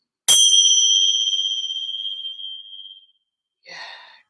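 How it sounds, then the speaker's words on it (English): A single bell is struck once for the start of a practice session, ringing out clear and loud and fading slowly over nearly three seconds, followed by a brief breathy sound. "let's just begin with the bell"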